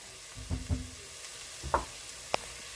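Onions softening in a pan for Greek red spaghetti, a faint, quiet sizzle broken by a few soft scrapes and knocks of a spoon stirring, no one talking.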